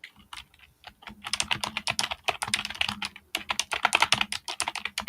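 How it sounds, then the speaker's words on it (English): Fast typing on a computer keyboard, a dense run of sharp clicking keystrokes that come in quick bursts with brief pauses, close and clear and alone with no talk over it. "Sorry, I'm typing fast."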